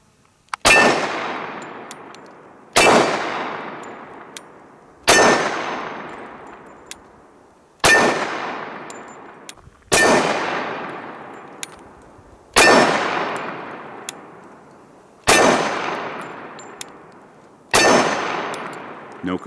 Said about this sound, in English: We're gonna shoot it a little bit more here.